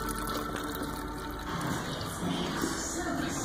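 Water rushing through the radiator of a Triumph Daytona 675 motorcycle, a steady gushing flow like flood runoff, fairly close and continuous with no clear speech.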